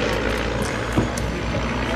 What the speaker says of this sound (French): Les stamps SV4, avion d'entraînement pensé par deux ingénieurs au tout début des années 30, Jean Stamp et Maurice Vertonghen